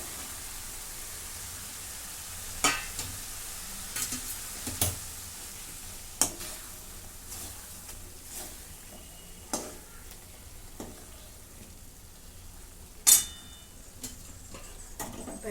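Brinjals being stirred into roasted masala for a spicy rassa vangi curry: a low, continuous sizzle broken by irregular sharp scrapes and knocks of the spoon against the pan, close and moderately loud.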